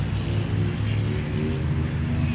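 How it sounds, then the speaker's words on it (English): A steady low rumble of road traffic at an abandoned Arby's in North Charleston, South Carolina, forms a continuous moderate wash of noise with no talk. "I'm sorry for the road noise."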